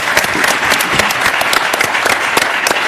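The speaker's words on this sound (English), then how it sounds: "Give them all a round of applause." Audience at a panel discussion at NJIT applauding, loud and close with sharp individual claps standing out in a steady burst.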